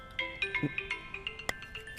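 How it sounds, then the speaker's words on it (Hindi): Mobile phone ringing in a Hindi-dubbed South Indian action movie: a repeating electronic ringtone melody of short tonal beeps with a steady rhythm, clear and close. "इस समय कौन फोन कर रहा है?"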